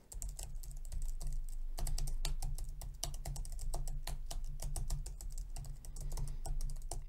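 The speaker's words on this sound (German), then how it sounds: "Und so klingt das Keyboard." Rapid, steady typing on a computer keyboard, recorded close up through a Behringer C1 microphone, with dense clicking keystrokes continuing throughout and no voices.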